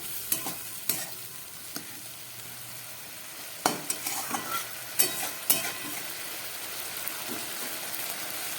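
A spice paste with a splash of spice water fries in a pan for a fish curry. A low steady sizzle runs throughout, broken by scattered sharp clinks and scrapes as a spoon stirs it. Close up, with no voices.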